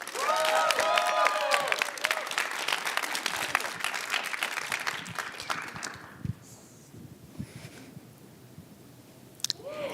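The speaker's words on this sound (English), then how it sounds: "let's give a huge round of applause to Realist" Audience applause for a startup team at a program showcase, loud sustained clapping with some whoops that dies away after about six seconds, leaving quiet room noise and a few scattered claps.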